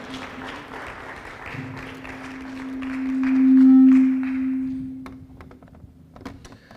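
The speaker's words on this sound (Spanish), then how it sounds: "Dale fuerte el aplauso al Señor" Light applause that fades into scattered claps, with a sustained tone swelling underneath in the middle.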